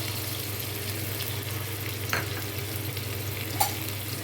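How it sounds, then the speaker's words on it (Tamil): Green chillies frying in two ladles of oil in a pan, a steady close sizzle with a couple of faint clinks of stirring, and no talk. "ரெண்டு கரண்டி எண்ணெய் சேர்த்துருக்கேன். சேர்த்துக்கிட்டு இந்த பச்சை மிளகாவை நான் இதில் வந்து சேர்த்துக்க போகிறேன்."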